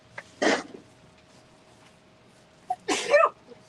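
Two close, sharp human sneezes, each preceded by a brief intake, separated by a couple of seconds of quiet during an indoor fire ceremony.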